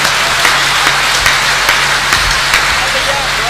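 A poetry-event audience at a Hindi kavi sammelan applauds loudly, dense continuous clapping with periodic sharper bursts throughout.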